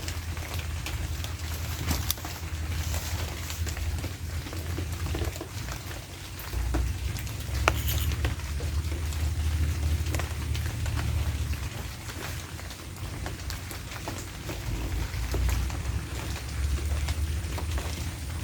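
Steady rain falls on surfaces outdoors in a rural province during a storm, a constant dense patter with a low rumbling wash underneath and occasional sharper drops, no talk.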